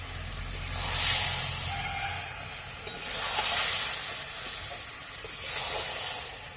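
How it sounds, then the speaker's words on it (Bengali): Fried eggplant pieces dropped into a pan of cooking onion stalks and peas for a brinjal curry, giving several swelling bursts of hiss and sizzle over low-heat cooking, fairly close, with no talking. "এই যে আমি এবার এই ভাজা বেগুনগুলোকে দিয়ে দিচ্ছি এর মধ্যে"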